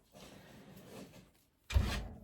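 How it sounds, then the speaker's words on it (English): Knocking on a door in a quiet room, a short burst of raps close by, preceded by faint rustling and brief handling sounds. "Oh, Sherman is knocking"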